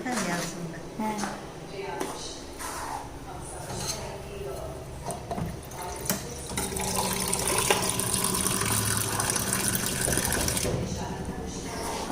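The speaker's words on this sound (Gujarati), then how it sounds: "પાણી નાખવું છે ને જરાક નાખીએ તો" Water poured into a cooking pot for a home-cooked weight-loss dish, a gushing, splashing pour lasting several seconds in the second half beneath ongoing conversation.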